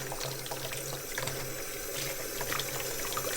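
Cold water runs steadily from a tap over a sub-zero winter glove, a continuous close splashing stream with a low hum beneath it and no talking.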